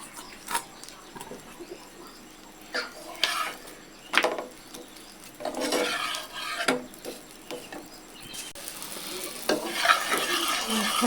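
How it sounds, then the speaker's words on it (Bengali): Paratha flatbread frying on a hot tawa, with a low sizzle broken by repeated scraping and tapping strokes of a spatula, some louder bursts of frying in between. "রুটিটা ভাজার জন্য এই যে আমি তাওয়াতে দিয়ে দিলাম"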